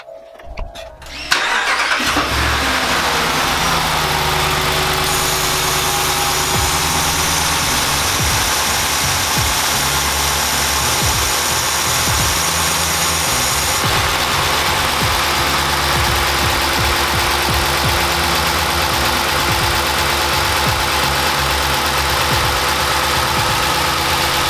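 A 2019 RAM 1500 fitted with a K&N air filter cranks and fires up, then settles into a steady, loud, close-miked idle that runs unbroken with no voices.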